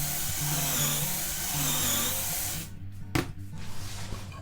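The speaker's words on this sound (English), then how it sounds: "And then you simply drill the holes." Steady whining drone of a power drill boring pocket holes into wood through a Kreg jig, the bit set with a stop collar at 1.5 inches, running continuously close by and then cutting off into a sharp knock and quieter handling noise.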